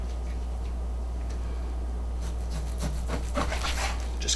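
Knife cutting through meat during home butchering, after trimming, to halve the carcass; soft rubbing, sawing strokes start faint and grow denser and more distinct in the second half, heard close over a steady low hum.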